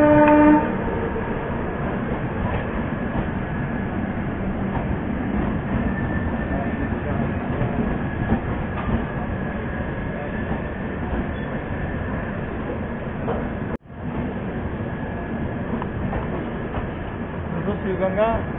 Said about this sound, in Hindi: यहाँ पे आ चुकी है शिवगंगा एक्सप्रेस, जो कि मडुवाडी से न्यू दिल्ली के बीच चलती है